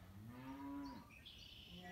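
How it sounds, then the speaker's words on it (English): A cow moos once outdoors in the evening, a single drawn-out low call lasting about a second, faint and at some distance, with birds chirping softly afterward. "The cow."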